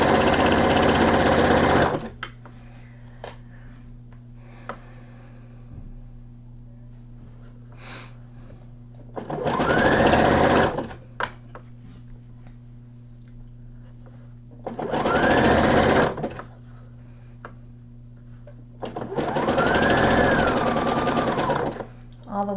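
Sewing machine stitching lace onto the back of a night gown, running in four separate bursts of steady mechanical whirring. Between the bursts there is a quieter hum, and no one speaks.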